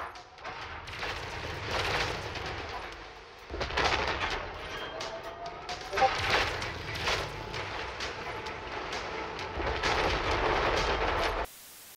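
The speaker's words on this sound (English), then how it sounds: "that hefty muzzle flash coming off of the Hunchback's Tomudzuru AC-20 sure is awe-inspiring" A Hunchback mech's heavy AC-20 autocannon fires in a BattleTech game, booming blasts layered into a rumbling, sustained barrage with loud peaks, ending abruptly.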